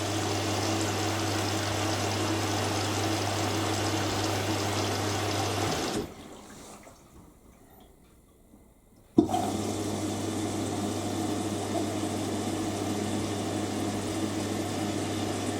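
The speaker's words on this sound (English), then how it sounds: "And it should fill through the main wash." An Indesit IWME146 integrated washing machine takes in water for its main wash, a steady rushing inflow with a low hum that cuts out briefly and then resumes, heard alone and close.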